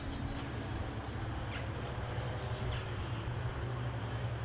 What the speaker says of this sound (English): the sound of dawn as the birds tweet and come to life